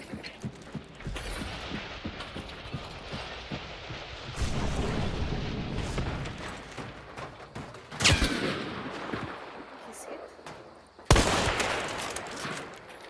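Video game gunfire shooting through a house wall, a run of rapid shots rattling under game sounds, with louder sharp bursts near the middle and end.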